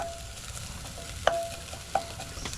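An onion fries in a pan with a soft, continuous sizzle heard up close, broken by two sharp clinks of a utensil against the pan.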